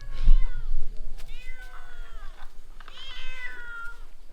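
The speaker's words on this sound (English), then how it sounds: "we now have a crowd of 4 or 5 cats trying to get into the tent to get the tuna" Four or five cats at a Bedouin camp near Little Petra meow insistently outside a tent, trying to get at tuna; several overlapping drawn-out meows, close and loud, with a low background hum.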